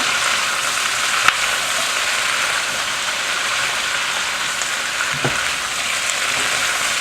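Zucchini stirred into hot flavorful oil for ratatouille, a steady close sizzle with a couple of brief utensil clicks, no voices.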